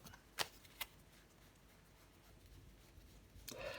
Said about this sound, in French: Je recouvre le 2 de coupe.